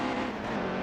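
In the NASCAR Heat 2 racing game, race trucks roar past in a dense pack. A loud, continuous engine drone fills the brief moment without a break.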